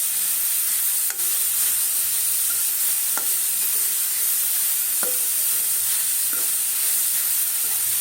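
Grated carrot fries in ghee for carrot halwa, giving a continuous bright sizzle up close with several light scraping stirs of a spoon through the pan, no voices.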